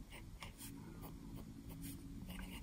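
Medium-nib fountain pen scratching across paper in short, rhythmic strokes, close and quiet, with faint room tone underneath.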